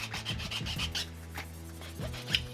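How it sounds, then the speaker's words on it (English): Short, repeated rasping strokes of a hand file scraping hard plastic on a Traxxas TRX-4 kit, close up, in an uneven rhythm with brief pauses. "I'm going to clean up the corners right alongside the posts with a file."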